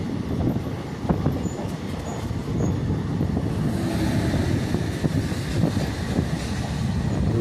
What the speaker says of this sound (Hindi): लो आ गई मालगाड़ी भाई DFC से।